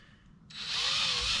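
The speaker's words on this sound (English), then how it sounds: "Very easy drilling, that's three." A power drill spins up and bores steadily through a bamboo fishing rod blank, a close, bright whirring grind that starts abruptly and holds.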